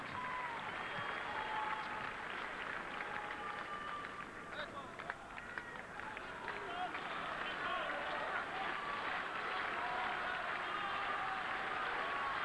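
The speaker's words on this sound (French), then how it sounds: "C'est pour Patrick que sont destinés tous ces applaudissements pour Patrick Rafter." Crowd applause at a Paris indoor tennis match in 2000 for Patrick Rafter: continuous clapping from the stands, steady and full, with a commentator's voice talking over it.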